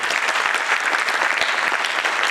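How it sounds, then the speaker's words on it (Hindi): An audience at a talk applauds, giving a brisk, continuous round of many hands clapping, fairly close and loud throughout. "तालियां"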